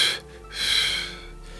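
Quick, forceful exhales during a guided breathing exercise: two or three breathy bursts of air, close and fairly soft, each swelling and fading within about a second, with no talking over them.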